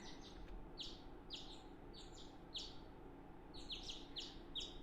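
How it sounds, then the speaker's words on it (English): Morning birdsong in the video game Hakuoki: Kyoto Winds: repeated bright chirps and short tweets in loose bursts over a steady ambient bed, moderately close, with no voices. "I woke the next morning to the sound of birds chirping."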